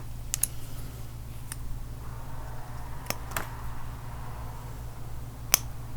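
Pruning shears snip branches off a Senjumaru black pine bonsai, giving a few sharp, crisp clicks spaced irregularly against a quiet room hum.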